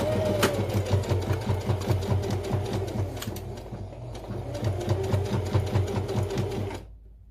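A sewing machine stitches the connector of a small Sunshine pouch in rapid, rhythmic bursts, close and loud, easing briefly midway before stopping abruptly near the end.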